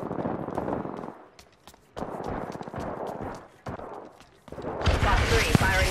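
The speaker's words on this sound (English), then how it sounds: "Under fire. Getting shot at. Opening fire." Video game gunfire crackles in rapid bursts, sharp repeated shots in clusters separated by short pauses, ending in a louder, denser volley; voices come and go under the shooting.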